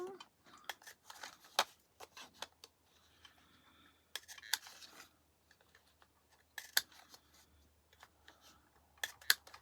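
Scissors snip the corners off paper for a dark Alice-themed folio, a run of close, sharp clicks and crisp cuts in short bursts with quiet pauses between.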